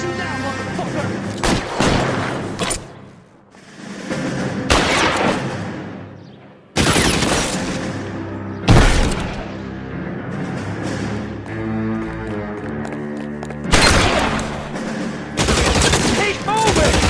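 Shootout in the L.A. Noire video game: loud, sharp gunshot cracks fired in bursts and single blasts, broken by short silent gaps, with shouting voices among the shots.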